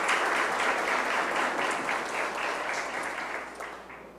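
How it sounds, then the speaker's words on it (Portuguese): Audience applause for a family being honoured at a book launch ceremony, dense continuous clapping from a roomful of people that gradually thins and fades toward the end. "Uma salva de palmas para essa família maravilhosa"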